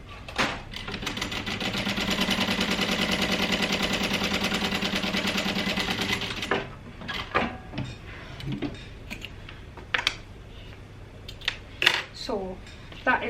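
A sewing machine basting a fabric bag flap closed runs in a steady, close mechanical whir with rapid needle ticking for about six seconds, then stops, followed by scattered clicks and handling noises of fabric and tools.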